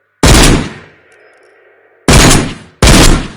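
A sniper rifle fires in a VR video game, three loud, sharp shots with a short ringing tail after the first, separated by near silence.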